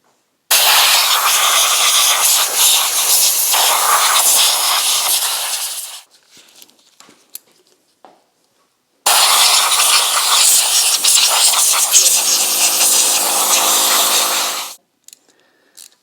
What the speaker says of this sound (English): Before you break an engine open, take a cover off, even take spark plugs out. Whatever you do, blow everything off, all out of the way first.